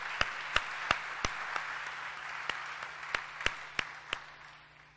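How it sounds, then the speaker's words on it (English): An audience applauding an honorable mention at an awards ceremony, a few loud distinct claps over a soft spread of clapping that gradually fades out within a few seconds. "let's give him a round of applause and congratulations"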